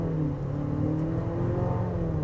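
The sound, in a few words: 2025 Nissan Murano Platinum accelerating while merging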